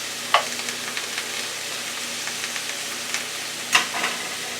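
Angus beef patties sizzle steadily in a frying pan, a continuous close hiss broken by a couple of sharp pops or scrapes.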